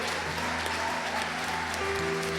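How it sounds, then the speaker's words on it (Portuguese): A church congregation applauds throughout a service, dense steady clapping filling the room with a sustained musical tone underneath. "Aplauda, povo mais feliz da terra."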